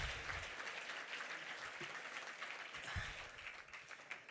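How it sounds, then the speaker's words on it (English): Audience applause at a 2017 community awards show, a steady wash of many hands clapping from a large crowd, sustained and fairly distant throughout. "Let's give Legacy Ladies another round of applause."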